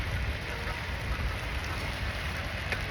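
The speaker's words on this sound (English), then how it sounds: "it's raining a bit" Light rain falling outdoors during a walk, a steady close hiss of drops spread evenly across the clip with a low rumble underneath and no voices.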